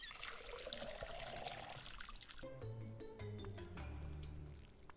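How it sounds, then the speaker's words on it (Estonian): A tap runs in the video game Schedule 1, a steady trickling pour that gives way partway through to a brighter dripping and splashing sequence, close and fairly quiet, with no voices. "võtame kraanist natuke vett ka"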